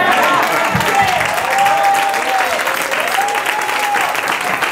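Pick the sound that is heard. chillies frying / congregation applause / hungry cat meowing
congregation applause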